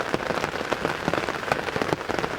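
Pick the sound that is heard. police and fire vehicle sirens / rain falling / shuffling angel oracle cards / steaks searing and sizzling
rain falling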